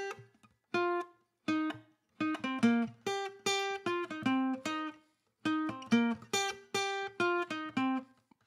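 Acoustic guitar picks out a short song part, a series of plucked melodic notes and brief chord phrases separated by small pauses, close and clear with no talking.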